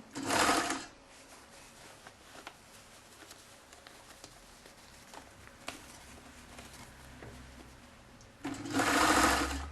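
A sewing machine runs in two short, loud bursts of rapid stitching along the edge of a lined popeline fabric seam, with quiet handling and faint ticks in between.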